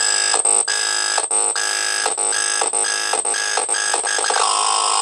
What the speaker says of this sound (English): This is the alarm clock right here.